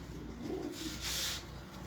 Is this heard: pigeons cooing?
yes